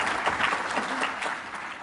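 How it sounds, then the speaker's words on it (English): Audience applause at an acceptance event, a steady wash of many hands clapping throughout, fairly distant and even in level with no voices on top. "Applaud for that, because it's very important."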